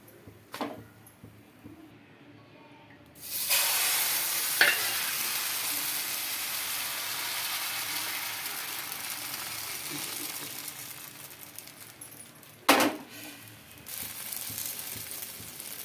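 Wheat flour and egg batter sizzles loudly in a hot pan, a steady hiss that starts a few seconds in and runs to the end, with a couple of sharp clacks of utensils and faint background noise.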